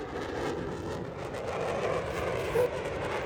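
Blue Angels jets flying overhead at an air show produce a broad, steady roaring rumble that stays even throughout, heard from a distance amid the outdoor crowd atmosphere.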